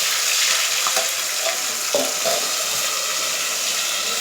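Onion paste frying in hot oil in a home kitchen pan, a steady loud sizzle throughout with a few soft stirring scrapes, and no talking.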